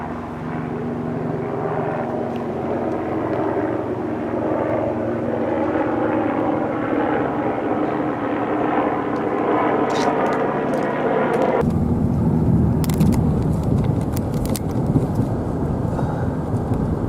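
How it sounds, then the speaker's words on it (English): Aircraft engine drone, most likely a helicopter, holds steady and loud for the whole stretch, with a thicker, louder roar after about twelve seconds as it comes closer and passes overhead. Nobody speaks. "Helicopter approaching for what appears to be a buzz."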